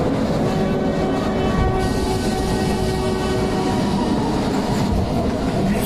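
A running train makes a loud, continuous rumble with rhythmic wheel clatter and a steady tonal hum, heard close and unbroken throughout.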